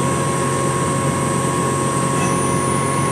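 A Fanuc RoboDrill spindle spins at 4000 RPM, giving a loud, continuous, even machine hum and whine with no pauses.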